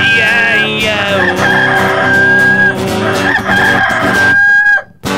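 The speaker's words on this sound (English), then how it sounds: "It was a rooster." A rooster crowing on a cartoon farm, loud and sustained over a dense layer of music, with a long drawn-out crow at the end before a sudden cutoff.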